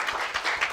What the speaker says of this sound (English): Can we have a round of applause for all these names?